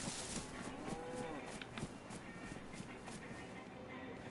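Cows in the DayZ video game low in a few drawn-out moos that carry over a noisy outdoor ambience, loud and fairly close, with no talking.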